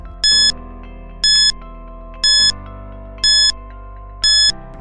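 Countdown timer for a quiz question: five evenly spaced, bright electronic beeps about a second apart, each a short shrill tone over a steady low hum, with no voices.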